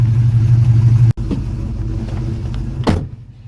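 A Ford XW Falcon engine idles with a low rumble, then after a brief dropout a power window whirs and a short rev rises before the sound fades out.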